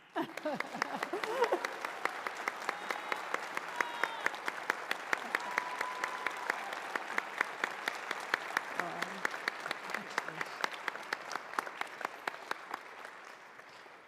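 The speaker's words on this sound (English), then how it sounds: "that's when you all clap." A convocation audience at a university ceremony in Thunder Bay claps at length, a sustained full round of many hands that holds steady before thinning and easing off near the end, with a few voices faintly underneath.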